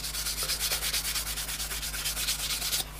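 A homemade printed circuit board is scrubbed to wipe off sharp burrs, giving steady rhythmic rubbing strokes, close and fairly loud, with no talking, and the strokes stop just before the end.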